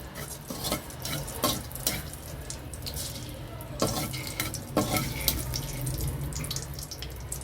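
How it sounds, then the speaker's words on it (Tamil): Mustard seeds tempering in hot oil for a cabbage chutney, a steady sizzling crackle with scattered sharp pops and brief louder bursts, continuous and close throughout. "எண்ணெயை ஊற்றி கடுகு போட்டு சின்ன தாளிப்பு பண்ணிடுறோம்."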